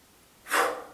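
A single audible inhale, breath drawn in while seated cross-legged during a dynamic stretching cooldown and lifting the shoulders, rising quickly then tapering off, close and alone.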